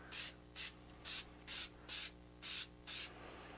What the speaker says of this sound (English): we'll hit this with activator